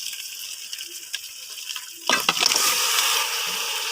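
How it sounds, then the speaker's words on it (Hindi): Chicken is washed in vinegar water: after quiet handling and a few faint clinks, a stream of water suddenly gushes and splashes steadily for the rest of the moment. "मैंने सिरका मिक्स पानी के अंदर चिकन को अच्छी तरह धो लिया है।"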